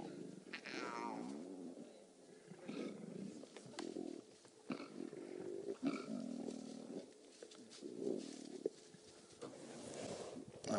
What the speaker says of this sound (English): Those are cubs growling.